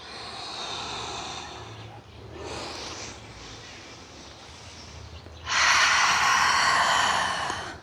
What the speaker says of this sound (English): Three more deep breaths here